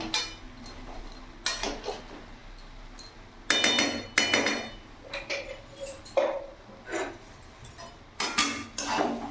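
Cabbage ghonto with ghee and garam masala being stirred in a pan: irregular sharp clinks and scrapes of a spoon against the metal, close and moderately loud, with brief gaps between strokes.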